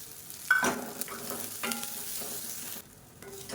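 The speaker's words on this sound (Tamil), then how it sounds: "இங்கே பாருங்கள் தேங்காய் சேர்த்து நல்லா வதக்கியாச்சு" Grated coconut sautéed in a pan for a pearl millet dish, giving a steady close sizzle with brief scraping stirs, a louder clatter near the start, and a short quieter gap near the end.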